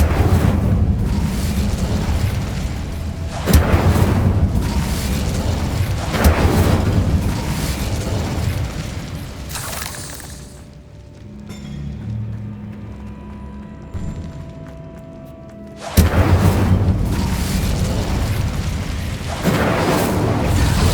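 Fiery Incendio spell blasts from Hogwarts Legacy, a loud roaring whoosh repeated several times in dense bursts, separated by a quieter stretch with a low rumble before the booming resumes.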